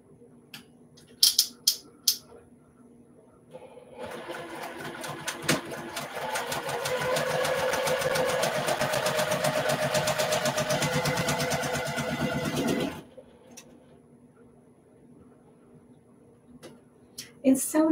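A sewing machine runs steadily for about nine seconds, a rapid mechanical whir, with a few clicks and handling noises before and after.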